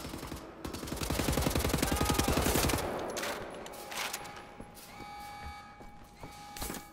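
Rapid automatic gunfire from a heavily recoiling weapon in the shooter game Wolfenstein: The New Order rattles loudly in a dense burst, then fades into echoing tails, metallic clinks and softer game effects.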